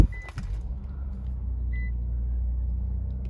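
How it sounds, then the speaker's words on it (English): A 2020 Infiniti Q50 or 2018 Mercedes GLC300 engine starts with a brief cranking burst and then settles into a low, steady idle rumble heard from inside the cabin. "Let's go ahead and have a seat inside and start this vehicle up."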